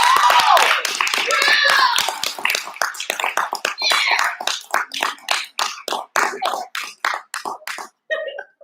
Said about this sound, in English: Let's give another round of applause for our playwright who's now making her way up on stage.